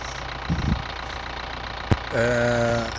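A Hyundai Santa Fe diesel engine idles while still cold, a steady low rumble with a couple of brief knocks and clatters, then a rising harmonic whine near the end.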